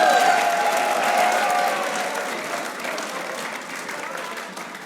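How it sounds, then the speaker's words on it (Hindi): A crowd applauds at a celebration for the Hyderabad Kingsmen team, loud sustained clapping that fades gradually over five seconds, with voices and crowd noise mixed in. "तालियां नहीं रुकनी चाहिए।"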